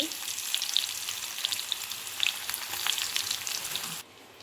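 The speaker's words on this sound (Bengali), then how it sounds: "তেলের মধ্যে দিয়ে দিলাম একটা শুকনো লঙ্কা ফোড়নে, তারপরে দিয়ে দিচ্ছি পেঁয়াজ কুচি" Chopped onion sizzling in hot oil with a dried red chilli tempering, a steady crackling fry with small popping bursts, close and fairly quiet, dropping off abruptly near the end.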